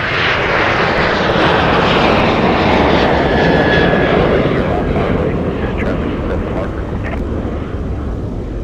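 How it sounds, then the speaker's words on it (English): A Delta Boeing 737-900ER takes off from a winter airport, its jet roar loud and sustained as it swells and then slowly fades, with a faint high engine whine and a voice talking briefly over it. "Delta 1048 off to Atlanta Hartsfield Jackson with a 737-900ER."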